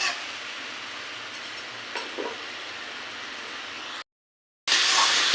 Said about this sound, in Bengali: এভাবে কিছুক্ষণ মশলাটা কষিয়ে নিতে হবে।